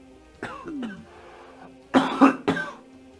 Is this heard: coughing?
yes